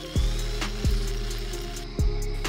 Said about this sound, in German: Um die Felge festzumachen, haben wir 2 Löcher gebohrt.